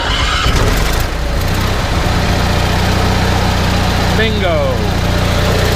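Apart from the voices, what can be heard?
generator engine starting and idling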